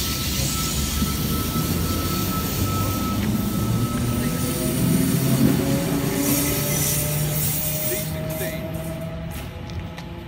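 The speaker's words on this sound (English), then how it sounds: "In departing platform 2, we have a V-set for a Mount Victoria service." A Sydney Trains V-set pulls away from platform 2 at Leura station for Mount Victoria, a loud steady rumble of motors and wheels with tonal whines and faint wheel squeal, easing slightly as it departs.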